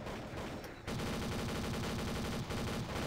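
Rapid automatic gunfire from a Warcraft 3 match, a brief thinner patch giving way to a dense, loud, continuous rattle of shots that runs steadily to the end with no voices.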